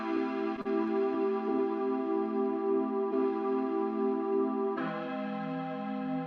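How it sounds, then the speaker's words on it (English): Soft sustained chords played on a D50 flute VST, breathy and synthetic, held for several seconds before shifting to a new chord near the end; mellow, close and steady with no talking. "Played that on this D50 flute, VST."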